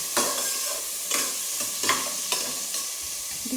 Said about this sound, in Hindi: अब मुझे ये देखो प्याज भूनते हुए